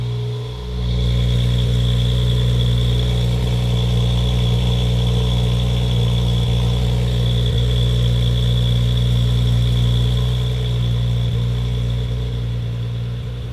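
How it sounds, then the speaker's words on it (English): Audi B9 S4 fitted with a catless downpipe idling loudly, a steady deep droning rumble with a strong low hum that holds constant for over ten seconds, close up and without talk. "Oh man, it's loud at idle."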